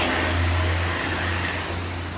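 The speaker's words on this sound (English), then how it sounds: "So much traffic and buses around here too, driving around." Diesel traffic and buses rumble along a Havana street, a deep steady engine drone close by that swells and dips briefly as a vehicle accelerates, with a wash of broadband street noise and no speech.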